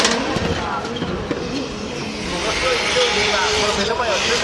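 A drift car held at full throttle through a qualifying run at Formula Drift Japan, Ebisu, its engine roaring steadily with rising and falling pitch, loud and continuous under a commentator's talk.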